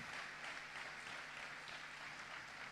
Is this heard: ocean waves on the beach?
no